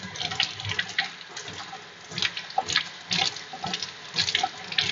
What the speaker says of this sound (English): So I'm going to go ahead and wet this with some warm water